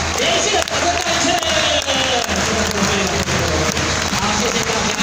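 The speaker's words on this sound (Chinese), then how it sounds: "连续的掌声带去" Audience applause at a ceremony marking the thirtieth anniversary of the I-Kuan Tao General Association in Taichung, heard as sustained, loud clapping from a large crowd mixed with murmuring voices, continuous from start to finish.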